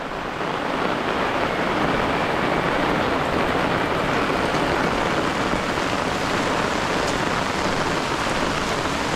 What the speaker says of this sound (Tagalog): Ganito ang tag-ulan dito sa Pilipinas.